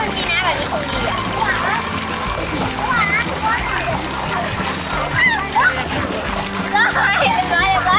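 Water sprays and splashes steadily at a water park during a storm, with children's voices and shouting mixed in throughout.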